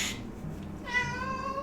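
A cat perched on top of a fridge lets out a single clear, drawn-out meow up close after a brief soft rustle.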